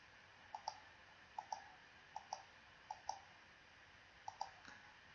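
A calculator's keys are tapped in quick pairs of soft, close clicks, about six bursts spread over five seconds, with a quiet room between them and no talking.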